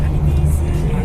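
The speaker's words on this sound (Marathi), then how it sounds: "गाडी पास झाली तिथून" A car passes on a road during a trip near Solapur, a loud steady low rumble of engine and tyres close by throughout the brief moment.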